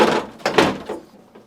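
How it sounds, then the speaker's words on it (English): Lower drawer of a freezer being slid in at an angle onto its support glide, giving a few plastic scrapes and dull knocks in quick succession, close by with no voices. "To install the lower drawer, insert it at an angle, making sure it sits beneath the support glide."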